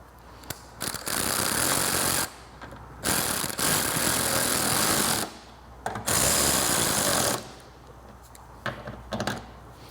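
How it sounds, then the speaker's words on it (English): A ratchet tightens the original seat-spike hardware on a Stella two-stroke scooter, buzzing in several sustained bursts separated by short pauses, close and loud. "Cheating with the ratchet there, nice and easy"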